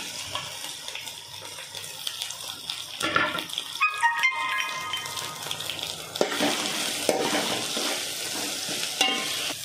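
Ginger garlic paste and meal maker soya chunks fry in a pan, giving a soft sizzle broken by stirring clinks and scrapes of a utensil, close and moderately loud with no speech.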